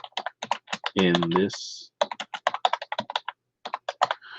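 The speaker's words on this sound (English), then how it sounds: "So notice I'm just typing text" Rapid, steady keystrokes on a computer keyboard as plain text is typed, close and crisp, with a brief pause and a short talking voice in between.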